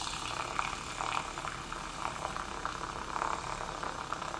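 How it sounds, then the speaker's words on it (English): Cream is frothed for a cappuccino with a steady, close hissing and bubbling sound that holds at an even level, with no talking. "Now I'm just going to froth it up."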